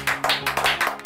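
Rhythmic claps, about six per second, evenly spaced and crisp over a steady musical backing, closing a Hindi car-industry news segment about Tata Motors overtaking Hyundai.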